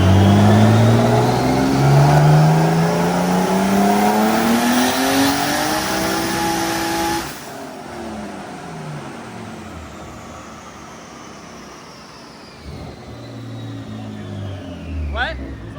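Turbocharged car on a dyno at 20 PSI with all wheel spin, its engine climbing in pitch as it revs hard for several seconds, then abruptly cutting off and winding down into a lower idle.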